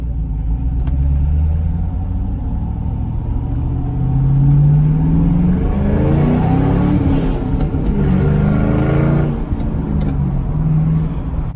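A 2005-2009 Ford Mustang GT engine revving loudly, a deep rumbling roar that climbs and falls through several revs, heard close and alone for about ten seconds.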